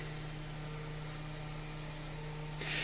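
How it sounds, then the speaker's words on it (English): An electric sander held upside down sands a small wooden piece: a steady electric hum with a constant low drone and high whine, running unbroken throughout, close and moderately loud, ending with a brief rise in noise. "it works easier when the piece I'm sanding is fairly small, just to turn the sander upside down"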